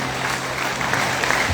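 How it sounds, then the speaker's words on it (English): A congregation at a crusade in Umingan, Pangasinan, Philippines, claps their hands together, a continuous, fairly loud wash of applause with a faint steady hum beneath it. "palakpakan natin ang ating Panginoon"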